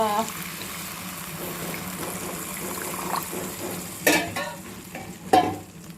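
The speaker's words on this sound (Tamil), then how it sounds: "புளி கரைச்சல் ஊற்றும் இல்லைங்களா அதை ஊற்றி நல்லா வேக வைக்கணும்" Tamarind water is poured into a hot pan for garlic kulambu, sizzling and bubbling steadily, with a couple of louder splashes and clinks near the end.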